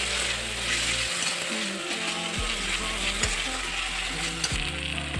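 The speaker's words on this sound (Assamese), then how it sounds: "এতিয়া ধুনীয়াকৈ ভাজি ল'ম" A paste of dried chili, garlic and ginger fries in a pan with a steady, dense sizzle, while repeated scraping strokes of stirring come through at a regular pace, close and fairly loud, with no voices.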